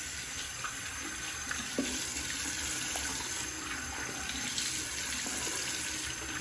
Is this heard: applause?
no